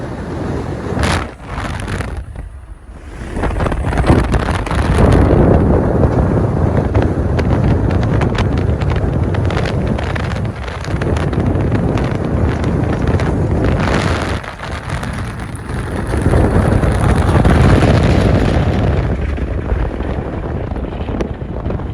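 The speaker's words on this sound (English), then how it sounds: "the winds are bone-chilling killers. The wind cuts right through your fingers." Strong wind from the cyclonic blizzard of winter storm Kenan roars and buffets the microphone steadily for the whole stretch. The gusts are loud and close, dip briefly a few times, and carry no voices.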